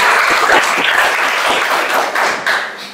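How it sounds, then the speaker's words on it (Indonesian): A classroom of students claps together in sustained applause, dense and close with scattered sharper slaps, steady throughout without speech. "Tepuk tangan dong buat kita semua."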